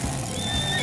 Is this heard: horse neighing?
yes